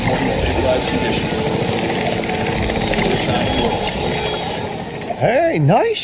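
Capture team helicopter in the video game Jurassic World Evolution 3, a steady rotor and engine drone filling the scene throughout, with a warbling sweep near the end and a voice talking over it.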